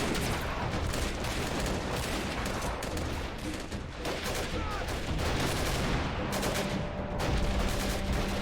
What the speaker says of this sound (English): A flintlock machine gun.